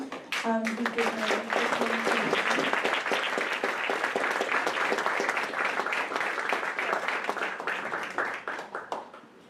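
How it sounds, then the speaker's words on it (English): Audience applause for the speakers at a youth climate evening event, a dense burst of clapping from a sizable crowd that stays loud throughout and tapers near the end, with a brief voice over its opening. "we'd also like to give a big round of applause to all of the amazing speakers today"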